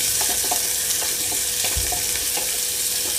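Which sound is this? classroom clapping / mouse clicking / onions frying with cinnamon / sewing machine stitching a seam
onions frying with cinnamon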